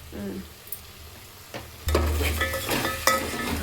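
Food fries in a pan with a faint sizzle and a few light taps, then a stronger hiss and stirring scrapes take over, with rhythmic spatula strokes close by; no voices.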